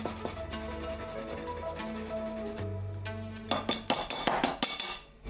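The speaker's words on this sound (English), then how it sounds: "Okay, we're gonna directly grate this into the bowl." An ingredient is grated directly into a bowl, giving a run of close, quiet scraping rubs that end in a few sharper strokes and knocks against the bowl.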